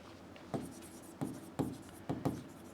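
Chalk or marker scratches across a board during a lecture in several distinct quick strokes, fairly close, with no talking over them.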